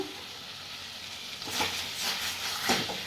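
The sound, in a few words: food cooking in a pan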